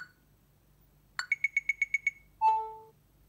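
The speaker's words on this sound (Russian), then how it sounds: "Вот также у нас есть звуки камеры таймер countdown" An iPhone camera timer countdown: a quick chirp, then seven rapid, evenly spaced electronic beeps, ending in a sustained two-tone chime. Crisp and close, with no voices.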